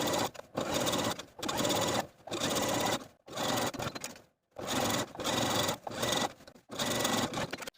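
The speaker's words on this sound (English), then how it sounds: "I'm going to top stitch all the way around once more, 1 inch away from the upper fold" Sewing machine doing straight-stitch topstitching around the elastic waistband of pants, about seven steady whirring runs separated by brief pauses, close and loud with no voices.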